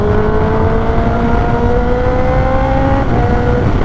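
A 2023 Kawasaki ZX10R with an Austin Racing exhaust accelerates with a loud, close, steady engine drone that climbs in pitch, briefly dips at a gear change, then keeps pulling.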